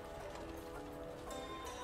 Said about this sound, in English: Niamh gave her horse a dose of her reins and cantered off